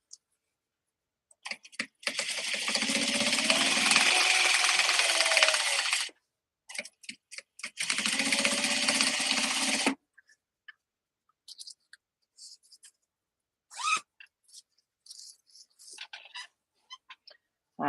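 An industrial sewing machine top stitching a leather bag, running in two loud, close bursts of rapid stitching, about four seconds and then two seconds long. Brief clicks and handling noises fill the quiet gaps.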